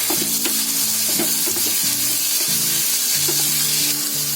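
Chopped tomatoes hit a pan of onions already fried until reddish, giving a loud, steady sizzle with stirring scrapes and no speech.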